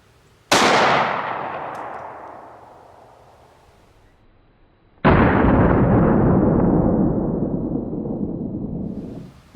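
Two heavy booming shots from a 10mm pistol firing 200-grain Hornady XTP hollow points at water jugs from ten feet, each a loud close blast with a long rumbling tail, about four and a half seconds apart.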